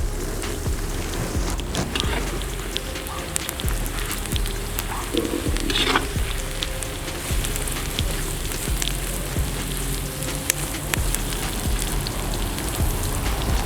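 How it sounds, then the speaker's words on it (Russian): Carrots frying in a kazan give off a steady, dense sizzle and crackle that runs evenly throughout, with no voices. "Обжарим еще пару минут. Добавляем морковку."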